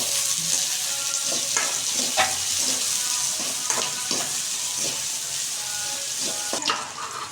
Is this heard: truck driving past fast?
no